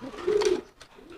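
A pigeon gives a low, throaty coo, swelling in the middle and trailing off, with a second faint coo near the end, fairly close.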